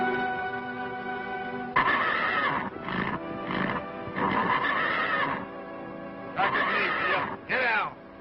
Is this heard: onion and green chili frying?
no